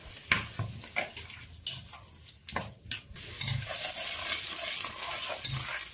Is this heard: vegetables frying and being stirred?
yes